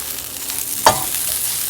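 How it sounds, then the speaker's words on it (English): Eggs with cheese and tomatoes fry in a pan with a steady close sizzle, broken midway by one sharp scrape or clank of a utensil against the pan. "yeah, hear that sizzling."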